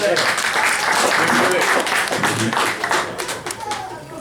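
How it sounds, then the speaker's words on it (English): An audience gives a round of applause at a handball hall of fame dinner. Steady, dense clapping fills the room, close and fairly loud, then thins out toward the end while voices murmur underneath. "Round of applause."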